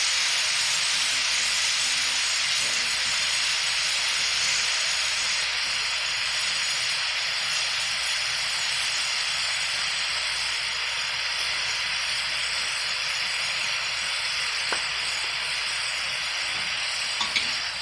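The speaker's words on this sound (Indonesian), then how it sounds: "ini sayurnya kita tumis-tumis, kita bolak-balik ya" Steady, loud sizzling hiss of vegetables being stir-fried and turned in a hot pan continues unbroken throughout, with occasional faint clinks and no talking.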